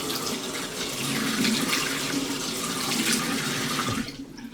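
Water runs steadily from a faucet into a sink for a face rinse, a close, continuous splashing hiss that cuts off near the end.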